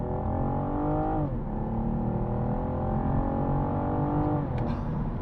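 A BMW 440i with xDrive accelerating hard in manual mode, its engine note climbing steadily through the gears with a short dip at a shift and a second shift near the end, loud and continuous with no talking.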